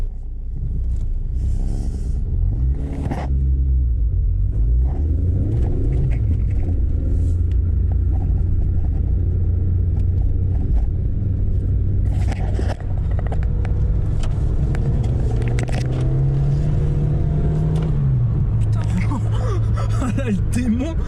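A car engine revving during driving, a loud rumbling interior drone that rises and falls in pitch through several gear changes, with someone talking and exclaiming over it.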